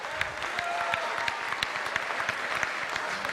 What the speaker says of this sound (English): let's give a round of applause to Tracy Callahan